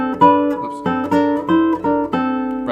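Guitar playing a run of sixth intervals, paired notes plucked in short phrases with brief gaps, close and moderately loud, no voice.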